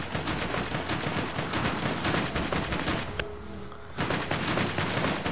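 Rapid vehicle-mounted gunfire in Borderlands 2, dense continuous bursts of automatic shots that cut out briefly, then resume at full intensity.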